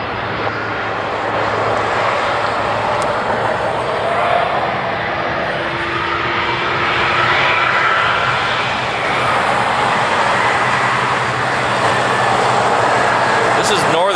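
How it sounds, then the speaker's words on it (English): A Northern Air Cargo plane departing Honolulu for Seattle, its engine roar a broad, loud, sustained rumble that swells steadily across the clip near the end of the runway, with people talking faintly underneath. "This is Northern Air Cargo. It's heading off to Seattle."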